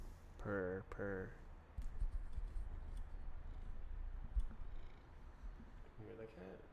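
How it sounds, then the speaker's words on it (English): A cat meows in short, clear calls at the start and end, with a soft, low rumble between them that suggests purring up close in a quiet room. "You hear the cat?"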